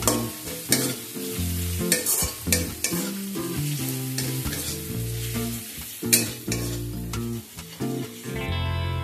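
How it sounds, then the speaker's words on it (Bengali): Ginger garlic paste frying with onions in hot oil, a continuous close sizzle with the clatter and scrape of stirring against the pan, no speech. "আদা রসুনটাকেও একটু ভেজে নেব যাতে কাঁচা গন্ধটা চলে যায়।"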